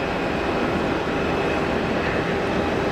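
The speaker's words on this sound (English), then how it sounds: "That's a Phenom. Built in Brazil." An Embraer Phenom business jet at Geneva Airport gives a steady, broad roar with a faint whine on top, constant and fairly loud throughout.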